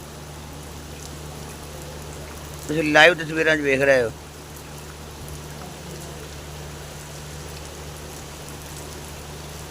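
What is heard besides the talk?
heavy rain falling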